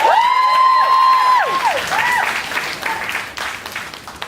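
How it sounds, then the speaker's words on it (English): Audience members at a charity bash clap and cheer, a loud held whoop riding over dense applause before the clapping thins into scattered hands. "Clap for me if you registered."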